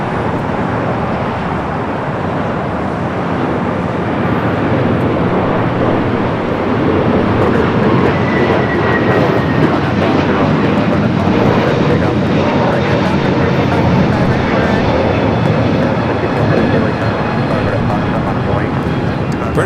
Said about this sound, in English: Flight 247 coming in from Lisbon, a 8-year-old A330neo is your next heavy arrival there on the north side.